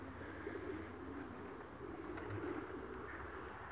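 Pigeons coo softly and steadily at a distance under a low, continuous background hum, with no voices present.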